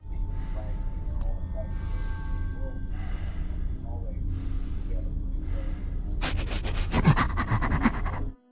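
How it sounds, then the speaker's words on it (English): Faint breathing from someone hidden inside a car in a video game, soft rhythmic breaths under a low constant hum, followed near the end by a brief burst of louder clattering noise. "If you listen carefully, you can hear someone breathing inside the car."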